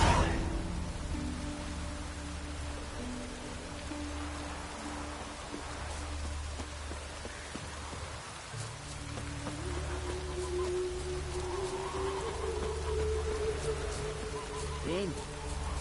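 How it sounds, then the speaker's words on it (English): Steady rain patters through a The Witcher 3 game scene, a soft broadband hiss under low ambient tones and occasional voices. "Rain again"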